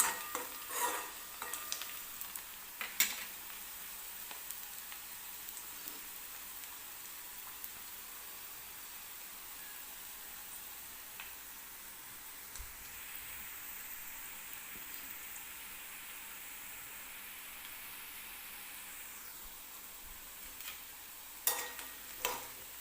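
Soft, continuous sizzle of potatoes frying in a pan for poha, with occasional scrapes and clinks of a spoon stirring, quiet and steady throughout.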